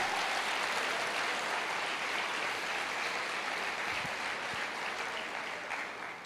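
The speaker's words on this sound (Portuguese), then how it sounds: "Aplauda o Senhor." A church congregation applauds at a worship service, a steady, even wash of clapping heard from a distance with no voices over it, tapering slightly at the end.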